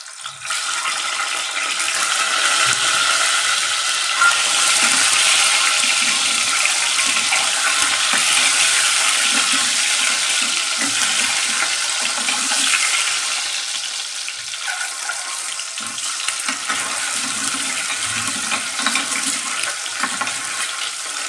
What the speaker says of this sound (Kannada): ನಾನು ಬೇಯಿಸಿ ಕಟ್ ಮಾಡಿ ಇಟ್ಕೊಂಡಿರೋ ಮೊಟ್ಟೆನ ಎಣ್ಣೆಲಿ ಹಾಕಿ ಸ್ವಲ್ಪ ಹೊತ್ತು ಫ್ರೈ ಮಾಡ್ಕೊತೀನಿ